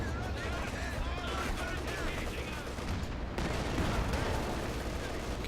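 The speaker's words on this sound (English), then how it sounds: "in comes the incendiary artillery" Battle in Company of Heroes 2 during a 2v2 match: incendiary artillery shells and gunfire crash amid anti-tank guns and Panther tanks, a dense, continuous barrage of overlapping bangs and rumbles.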